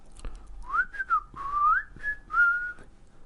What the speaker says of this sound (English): I can't really whistle very well.